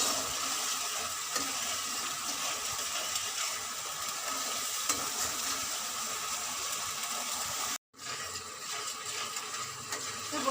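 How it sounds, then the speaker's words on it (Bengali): Poppy seed paste sizzling and frying in oil in a pan while being stirred, a steady close hiss with soft scraping throughout, briefly cut off near the end before resuming. "একটু ভালো করে নাড়াচাড়া করব।"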